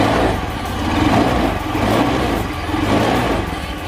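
A Honda Beat FI motorcycle engine with newly fitted piston rings revs in short, heavy surges, the mid-pitched drone rising and falling repeatedly up close with no talking.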